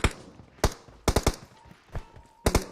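Gunfire in PUBG Mobile, with short bursts of shots in uneven clusters: single cracks, then quick double and triple volleys, moderately loud against a quiet background with faint tonal game sounds.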